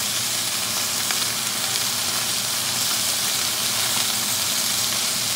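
Ribeye steak sizzling loudly in a hot pan after butter mix is added, a steady dense hiss of frying fat that holds unbroken throughout, close up and with no talk.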